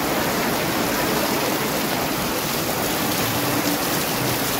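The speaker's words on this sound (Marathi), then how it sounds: "सध्या कोकणात पाऊस अधूनमधून मस्त पडता" Rain falling in Kankavli, Sindhudurg, in the Konkan region, a steady dense hiss that holds at an even level throughout with no other sounds standing out.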